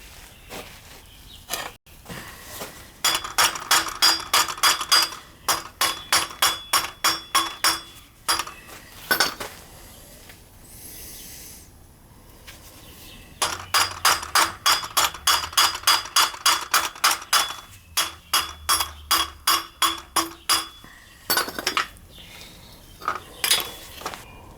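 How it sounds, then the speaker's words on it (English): A hammer strikes metal repeatedly during a Trackless MT5 plow retrofit, ringing blows landing in fast rhythmic bursts separated by short pauses, close and clear with no talking. "Hit it with the hammer a little bit and we'll be fine."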